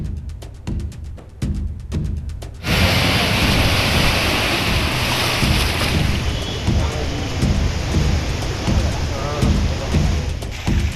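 Heavy rain pours during a downpour in Hyderabad, starting after a few seconds of intermittent knocks. A dense, steady roar of falling water and gusty noise fills the rest, loud and close with no voices.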